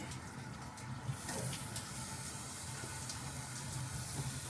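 Oxtails sear on a hot smoker with a steady, broad sizzle and hiss that holds at an even level throughout, with no talking.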